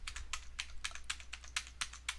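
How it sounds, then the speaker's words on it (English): Fingers tap out numbers on a computer keyboard, a steady series of light, close key clicks at an even rhythm over a low hum. "manually just type on your keyboard these numbers"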